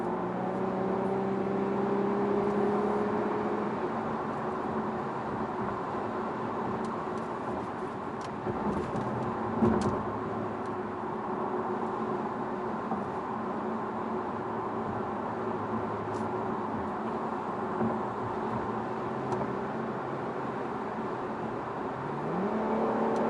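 An Infiniti Q50 Red Sport accelerates hard in Sport Plus mode, a sustained engine drone with rising tones through the gears over steady road and wind roar, heard from inside the cabin without talk.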